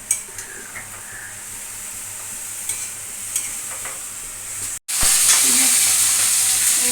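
A single piece of fish sizzles in a pan with occasional stirring scrapes, steady and close, then the frying hiss swells louder after a brief cut near the end.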